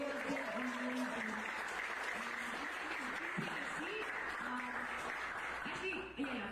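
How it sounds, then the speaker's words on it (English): Applause for the worship band at a church service, a continuous, somewhat distant roar of clapping with voices and a low tonal hum running underneath throughout. "worship band a round of applause."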